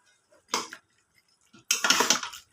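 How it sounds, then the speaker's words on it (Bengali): Goat meat is stirred and sautéed in a pan in two bursts of scraping and sizzling, a short one and then a longer, louder stretch, with quiet gaps between and no talk. "এখন দিয়ে দেবো মাংসগুলি, খাসির মাংসগুলি দিয়ে দিচ্ছি, একটু কষাবো।"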